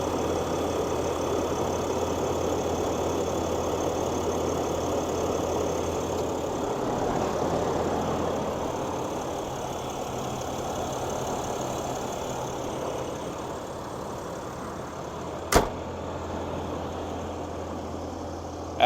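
A 6.7 liter inline six turbo diesel truck engine idling with a steady low rumble and hum, interrupted once by a brief sharp click near the end.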